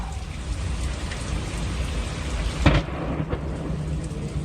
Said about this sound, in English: Lightning and the thunder.